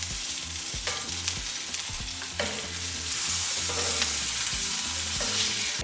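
Onion, garlic and chiles sizzle and crackle steadily in a skillet while being stirred around, a close, continuous fry with scraping stir sounds and no talking.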